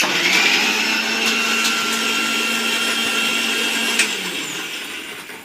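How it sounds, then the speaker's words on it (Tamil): Kitchen mixer grinder whirring loudly as it grinds ginger, garlic, onion and tomato, a continuous high motor whine up close that slows and fades near the end. "இஞ்சி பூண்டு வெங்காயம் தக்காளிலாம் ரெடி பண்ணி வச்சுருக்குறாங்க இப்போ வந்து நான் அதை மிக்சியில் அரைச்சி எடுத்துக்கிறேன்"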